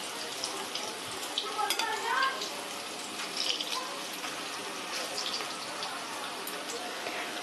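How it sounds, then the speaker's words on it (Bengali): Jackfruit muitha dumplings fry in a pan of hot oil as they are turned over, giving a steady close sizzle with brief scraping bursts and a faint background voice. "অপর পিঠ ভাজার জন্য আমি এইভাবে উল্টে দিচ্ছি"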